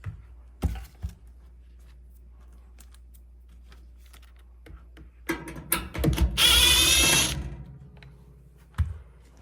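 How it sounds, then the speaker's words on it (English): Screws being removed from a panel on a Sub-Zero integrated Model 700BF(I) freezer drawer, a few scattered clicks followed by a short, loud whirring burst of a powered driver, then a final click. "So you remove those two screws"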